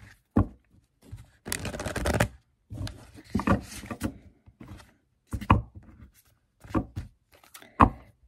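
Oracle cards being shuffled by hand: a run of soft, papery riffles and taps arriving in irregular bursts, close and fairly quiet, with a brief denser flurry near the start and no voices.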